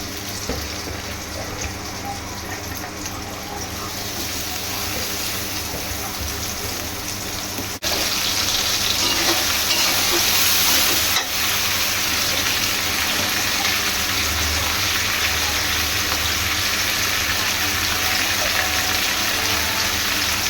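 Chopped onion, garlic and green chili frying in oil in a wok, a steady loud sizzling hiss that jumps sharply louder partway through as the vegetables hit the oil, then holds constant with no talk.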